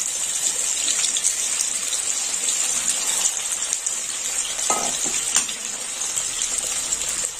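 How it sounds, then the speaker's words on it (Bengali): Potatoes fry in a pan of oil with a steady, bright, rushing sizzle, and a few soft scrapes of stirring rise briefly above it. "আলুগুলো ভাজা হচ্ছে"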